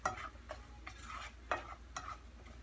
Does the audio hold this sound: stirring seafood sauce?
yes